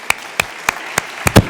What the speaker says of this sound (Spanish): Un aplauso para la catedrática Indrani Mukherjee.